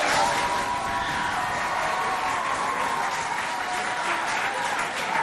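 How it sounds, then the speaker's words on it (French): Sustained audience applause at a school quiz competition between lycées in Sarh, dense continuous clapping with some cheering, loud and even throughout. "On l'applaudit, s'il vous plaît."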